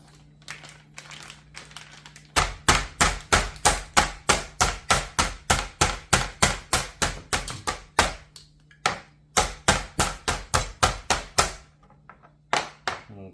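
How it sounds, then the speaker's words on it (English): Meat pounded flat with a mallet on a kitchen board, a long run of sharp, evenly spaced close thumps with a couple of brief pauses. "That one's pounded out lightly."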